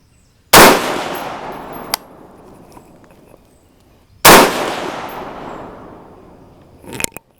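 Two loud, close 6.5 Grendel rifle shots firing 120gr Speer Gold Dot loads outdoors, each a sharp crack with a lingering rolling echo, spaced about four seconds apart, followed by faint metallic clicks.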